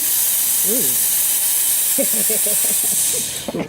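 A Breville espresso machine's steam wand gives off a loud, steady hiss of steam that runs almost four seconds before tapering at the end, with short bursts of voices talking over it.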